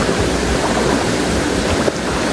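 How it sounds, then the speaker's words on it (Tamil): A mountain stream spilling over stones into a small pool, a loud, continuous broadband rush of water close to the microphone, with a little wind noise and no voices. "மலையில் இருந்து அப்படியே தண்ணி வருது. இதுக்குள்ளே அப்படியே தண்ணி தேங்கி அப்படியே வழிஞ்சு போகுது."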